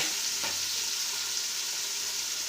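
Onions and tomatoes frying in a pan give off a steady, even hiss of sizzling oil, with one faint scrape of stirring early on, close and constant.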